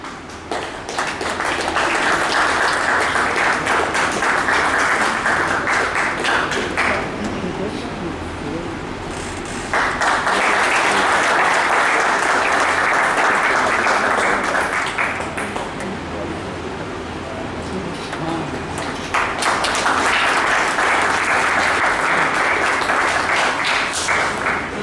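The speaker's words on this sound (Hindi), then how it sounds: "जोरदार तालियां बजाइए।" An audience at a wage agreement ceremony gives loud, sustained applause in three long waves with brief lulls between them, and voices are heard faintly in the gaps.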